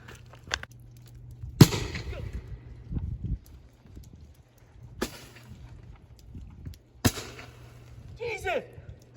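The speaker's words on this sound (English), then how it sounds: "son Connor, who's up top on the roof, hits me with fireworks." Fireworks set off from a rooftop during an outdoor exercise: several sharp, loud bangs spaced a few seconds apart, with crackling, shuffling noise and occasional voices between the blasts.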